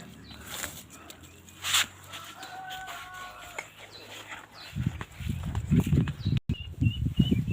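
Chickens cluck and murmur nearby in a yard, with a louder burst of low clucking toward the end over a faint background of other birds.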